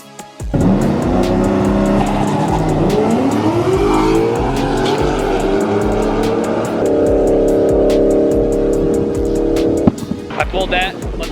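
A Ram truck makes a drag racing run, its engine roaring hard under full throttle and climbing through the gears for about ten seconds before easing off, loud and close.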